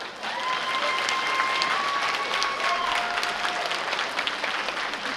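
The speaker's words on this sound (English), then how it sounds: "Please give a round of applause to Dr." An audience claps steadily for a guest speaker at a Lunar New Year gathering, a dense, sustained round of applause with no voices over it.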